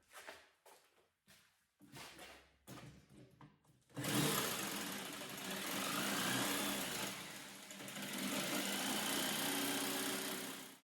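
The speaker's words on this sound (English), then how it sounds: "Now I have to cut straight lines with a jigsaw." A jigsaw cuts straight lines through a board: a few short stop-start bursts, then one continuous buzzing cut that runs several seconds, close and loud and alone.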